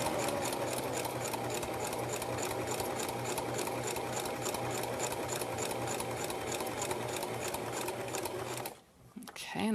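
A sewing machine stitches a fabric hot pad in a fast, steady mechanical run of needle clatter and motor hum for about nine seconds, then stops abruptly; a short quieter shuffle follows.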